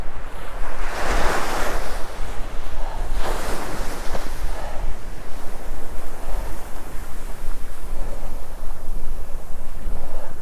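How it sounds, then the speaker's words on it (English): Ocean surf rolling in on an incoming tide at a shoreline fishing spot, with steady crashing waves and a constant rush of wind buffeting the microphone throughout. "Tide coming in."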